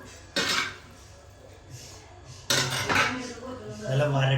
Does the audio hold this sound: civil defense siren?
no